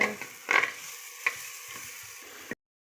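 Masala frying in a clay pot sizzles softly while a spoon stirs it, giving a few scraping strokes and clacks against the pot, close and brief before cutting to silence.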